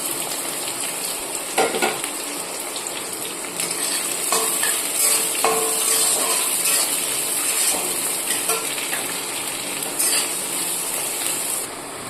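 Steady sizzling of onion, garlic, black cumin and green chilli frying in a hot kadai, with occasional scraping and stirring clatter, no talking.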